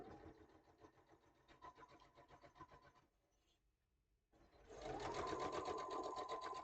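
A sewing machine top stitching a quilt-as-you-go border through batting, running in close steady mechanical bursts with a brief quieter pause before restarting louder and faster.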